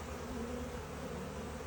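Honey bees buzzing at a hive during a swarm transfer from a nuc to a ten-frame hive, a steady dense hum holding throughout, close and even, with no voices.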